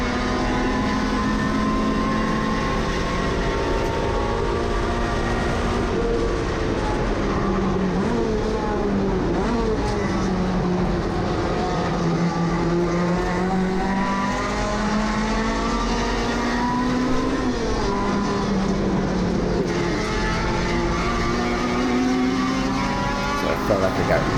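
Honda CRX race car running fast in an SCCA race at Auto Club Speedway, a continuous loud engine whine with rising and falling pitch through the gears, with someone talking over it throughout.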